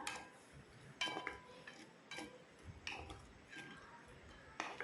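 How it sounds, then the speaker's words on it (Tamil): A spoon stirs bun halwa with added milk in a kadai, scraping the metal pan in soft, repeated strokes about once a second, with light clinks between them. "இன்னொரு அரை கப் பால் சேர்த்துட்டு நல்லா கிளறி விட்டுக்கலாம்"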